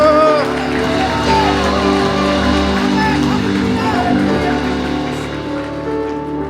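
A church congregation applauds during an online Sunday worship service, a steady wash of many hands clapping that runs the whole time beneath a loud voice and music.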